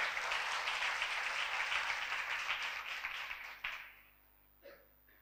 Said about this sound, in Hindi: ताली बजाएं कलाम के लिए।